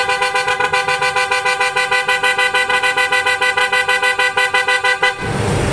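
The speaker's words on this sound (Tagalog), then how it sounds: "testing natin mga bossing yung sound ng auto style horn." An OTO Style PIAA car horn fitted to a Toyota Wigo blares loud and bright up close in one long blast with rapid rhythmic pulsing, cutting off just before the end.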